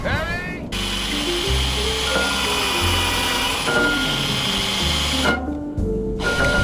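A power drill whines steadily while drilling into iron, its pitch shifting as it bites and bogs down, with a few short pauses between runs.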